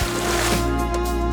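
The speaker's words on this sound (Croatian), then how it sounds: "Zatim ću dodati vodu." Water poured into homemade lemonade as a steady, continuous liquid stream, close and fairly even in level, with no speech over it.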